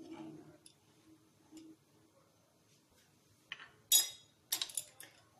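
A spoon clinks and scrapes against a cooking pot while hot and sour soup with chili sauce is stirred, a few sharp metallic taps near the end after quiet stretches, heard up close and fairly faint.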